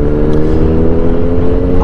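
A small motorcycle engine runs loud and close in a steady, throaty drone with a slight revving flutter, no voices over it.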